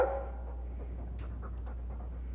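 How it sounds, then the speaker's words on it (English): Panting from a Mabari war dog in Dragon Age 2, a steady, breathy rhythm heard up close over a low constant hum, with no voices present. "I'm sick of what's-his-name staring and panting."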